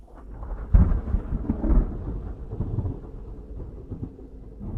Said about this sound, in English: we were startled by the crash of lightning that hadn't struck far from there